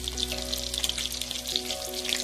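Chicken 65 deep frying in hot oil, a steady dense crackling sizzle with scattered sharp pops, close and continuous with a low hum beneath.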